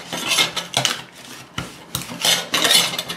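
Tarnished metal being scrubbed clean with Harpic, a run of rhythmic gritty rubbing strokes, close and fairly loud, each scrape rising and falling with no talking.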